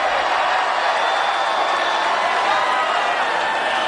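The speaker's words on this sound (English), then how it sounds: "Did you hear that crowd reaction?" Crowd at a Trump campaign event in Jackson, Mississippi reacts with a sustained, dense roar of mixed voices, steady and loud throughout with no single speaker standing out.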